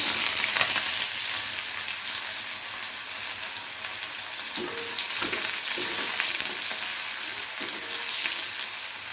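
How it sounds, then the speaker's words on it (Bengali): Chopped onion and nigella seeds sizzle in hot oil, a steady broadband crackle with a few soft stirring knocks partway through, close and continuous with no talk. "পেঁয়াজটাকে লাল লাল করে একটু ভেজে নেব হালকা করে"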